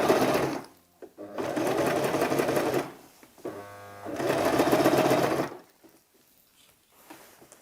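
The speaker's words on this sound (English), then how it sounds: "I'll be sewing the first stitch against the first crease, about 1/4 inch in from the edge" A sewing machine stitches bias tape onto a kaftan dress, about a quarter inch from the edge, in three steady runs separated by short pauses, quiet and close, with no talking.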